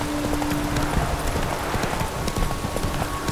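Horse hooves clip-clopping steadily while riding through wilderness in The Witcher 3, a continuous rhythmic patter under a dense, rainy-sounding ambient wash.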